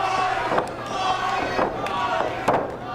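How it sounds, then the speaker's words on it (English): A wrestling arena crowd chanting during a Matt Hardy versus Fuego Del Sol match: a steady, rhythmic roar with beats roughly a second apart, continuous and fairly loud throughout, with a voice talking over it. "there's people chanting for Matt Hardy."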